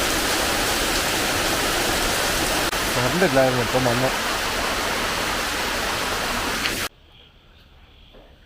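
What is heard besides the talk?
heavy rain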